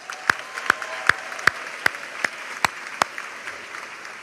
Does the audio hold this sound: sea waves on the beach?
no